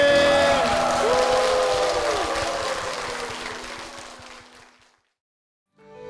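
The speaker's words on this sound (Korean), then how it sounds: "주님의 사랑 주님께 영광의 박수 올려드리겠습니다." Church congregation applauding, a broad wash of clapping under sustained musical tones that gradually fades into silence before a brief new sound begins.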